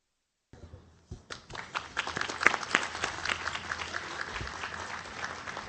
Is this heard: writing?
no